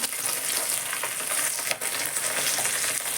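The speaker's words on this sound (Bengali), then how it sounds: "ভালো করে ভাজছি" Pieces of vetki fish frying in oil give off a continuous close, loud sizzle and crackle, with one brief dip midway, and no voices are heard.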